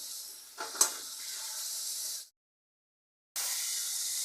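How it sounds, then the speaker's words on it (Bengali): Ground spice paste with tomato sizzles in hot oil for a homestyle tilapia curry, a steady close hiss with a brief stirring burst, cut by a second of silence before the frying hiss resumes. "এবার ভালো করে আমি মশলাটা কষাই করব"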